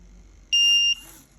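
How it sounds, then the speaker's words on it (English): A smoke alarm gives one loud, steady electronic beep lasting under half a second, clear against a quiet room. "Now we see we've gone back into the alarm routine, so that's going off."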